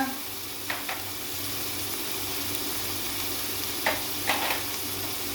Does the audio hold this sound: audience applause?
no